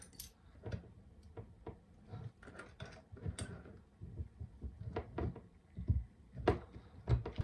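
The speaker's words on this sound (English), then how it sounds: "And then I can come on this side and screw it down." A Viso band mount being screwed down by hand, a faint, close series of irregular ticking and ratcheting clicks from the screw being turned, with no talk.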